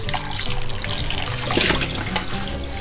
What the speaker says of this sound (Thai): ปอกเปลือกเสร็จแล้วค่ะล้างน้ำอีกรอบนึงนะคะ